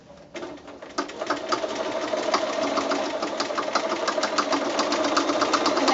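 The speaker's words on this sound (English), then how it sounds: "So sewing on that drawn line that you've made with your template." A sewing machine stitches along a drawn line on a thick quilted mini mitt, a close, loud, rapid even chatter that starts after a brief pause and runs steadily to the end.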